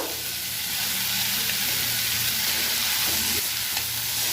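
Tomato, beans and carrot fry together in a pan for semolina pulao, giving a steady, close, continuous sizzle and crackle that holds evenly throughout with no talking.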